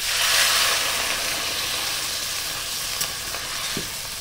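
A loud, steady sizzling hiss as water hits a hot pan of spices, brinjal and potato, strongest at first and then easing slightly, with a few faint clinks and stirring sounds.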